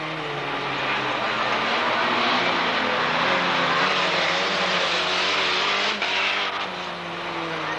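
Racing vans at an auto club meeting in Braintree, engines droning loudly as they lap close by, a continuous mechanical roar with rising and falling pitch and commentary talk underneath.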